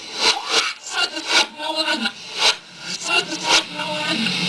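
Reversed playback of a song, heard as a warped, backwards-running wash of voice and instruments with pulsing swells and sucking attacks, fairly loud and without other talk.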